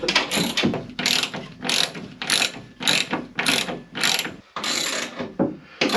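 A hand ratchet tightens a large bolt during rustic wooden shelf building, giving rapid, close, loud clicking in repeated strokes with short pauses between them and no talking.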